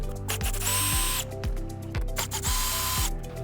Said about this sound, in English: We're going to go ahead and take these Phillips screws out.